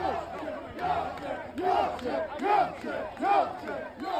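A rioting crowd outside a hotel housing migrants in England, many voices chanting and yelling in rhythmic surges, loud and somewhat distant, rising and falling in repeated waves.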